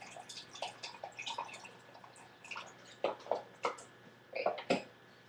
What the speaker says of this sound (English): I'm just going to add another 1/2 to 3/4 of a cup of the veggie broth.